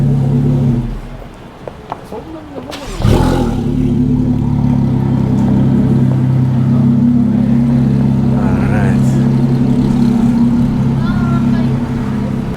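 A Ferrari engine on a city side street at night in Tokyo's Roppongi district, a loud, steady low growl that swells suddenly after a quieter start and holds close throughout, with people talking over it.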